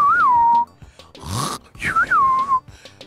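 A voice mimics a whistling snore: two high, wavering whistle tones with a rough, breathy snort between them, close and clear, with no other talk.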